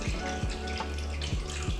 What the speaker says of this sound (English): And you want to just pour it into a bottle where you can actually pour into the hair in an easy way.